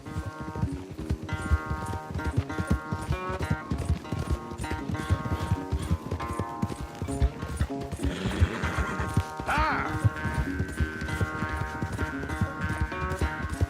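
Rapid hoofbeats pound in a steady galloping rhythm, joined by a horse's whinny midway, with music playing underneath, from the video game Red Dead Redemption 2.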